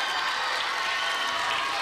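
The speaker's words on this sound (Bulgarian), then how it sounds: "Ваше силни аплодисменти и за Милен Данков, хореографът на X-Factor" A studio audience applauds for the X-Factor choreographer, a short burst of dense, steady clapping with a hint of crowd noise and cheering, no talk.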